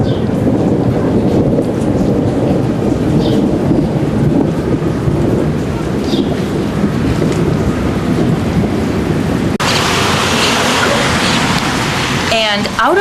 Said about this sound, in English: maybe we should wait till the thunder stops